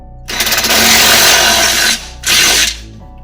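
Power tool snugging down a bolt on a Ford Fiesta lower control arm (2011–2019), a loud close whirring burst of about one and a half seconds, a short pause, then a second briefer burst.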